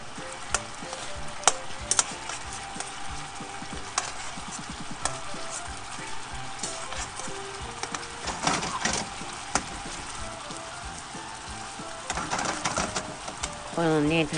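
Tofu rolls wrapped in meat sizzle loudly in a pan as teriyaki sauce coats them, a dense continuous frying hiss with scraping stirs and clacks, louder bubbling bursts toward the end, a voice talking over it.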